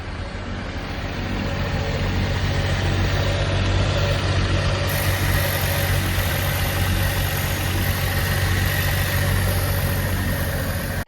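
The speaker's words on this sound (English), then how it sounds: "And I'll show a clip of it idling here when I got it home." A Toyota Dolphin RV engine with a suspected carburetor problem idles roughly, a loud, close, steady low rumble and vibration running unbroken for about ten seconds before cutting off abruptly.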